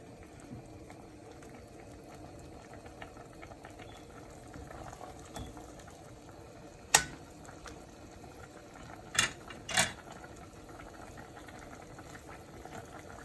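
A pot of Jamaican curry turkey neck boils with a soft, continuous low bubbling and a few sharper pops standing out, fairly quiet and with no one speaking.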